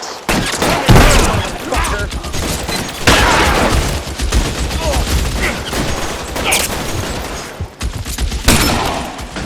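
A loud shootout in the L.A. Noire video game, with dense bursts of gunfire, sharp reports and booming impacts throughout. Shouted voices are mixed in.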